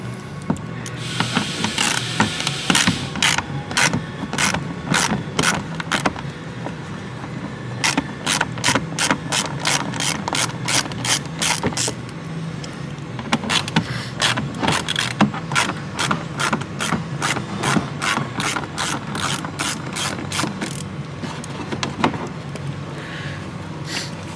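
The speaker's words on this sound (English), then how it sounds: "we're going to remove these two factory screws using an 8mm socket" A ratchet with an 8mm socket removing factory screws on a 2016-or-later Mazda Miata MX-5, loud rapid clicking in long repeated bursts with brief pauses, close up and without talk.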